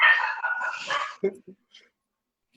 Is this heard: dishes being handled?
no